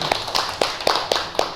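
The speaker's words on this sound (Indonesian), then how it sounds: "Beri tepuk tangan kepada Mas Diki." A classroom gives a short burst of applause for a student, the claps uneven and close together in a quick, light patter.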